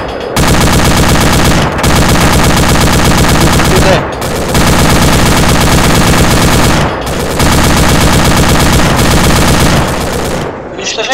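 Sustained automatic gunfire in the ArmA 2 ACE mod, loud and dense machine-gun bursts running nearly continuously with a few brief gaps, close and dominant.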